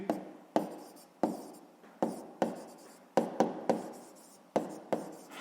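Pen scratching across paper while a sixth-grade maths solution is written out, in a series of about nine short strokes, each one starting sharply and trailing off, with no voices.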